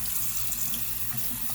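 Hot water runs from a tap into a sink, a steady close splashing stream that fills the whole short moment without any speech.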